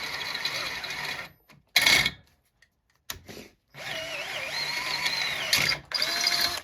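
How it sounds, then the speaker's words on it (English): An electric drill whines in bursts, stopping and restarting with short pauses, its pitch wavering as the bit slowly bites into steel. "Anytime you're drilling into steel,"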